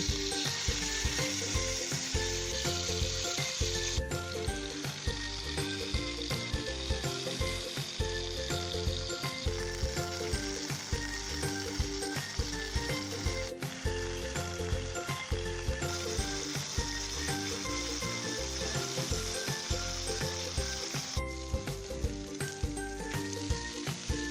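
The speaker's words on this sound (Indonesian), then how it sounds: "Lapisi permukaan teflon dengan minyak goreng dan kemudian panggang." Continuous loud sizzling of Madura chicken satay frying in an oiled Teflon pan, crackling steadily and close up without a break.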